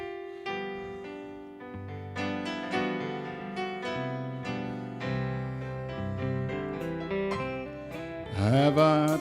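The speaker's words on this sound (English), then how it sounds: "we want to feature our piano player over here and let him do you a good old country tune" Piano playing an old-time country tune at a family opry show, melodic chords and runs rolling steadily and fairly softly, with no talking over it.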